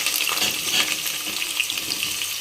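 Small and big onions dropped into frying masala in hot oil give a steady, loud sizzling hiss that runs unbroken throughout, with no voices.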